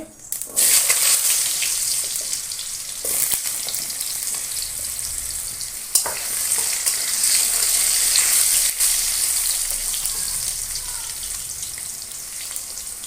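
Steady, loud sizzling of potatoes frying in hot oil after a cumin tempering, continuous and close, with occasional scrapes and stirring clatters.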